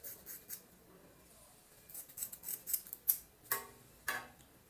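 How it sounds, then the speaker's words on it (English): Scissors snip through a synthetic hair extension being divided into four parts, a run of sharp, close, quiet cuts that cluster more densely toward the end of the stretch. "I'm going to divide this hair extension into 4 parts and cut it"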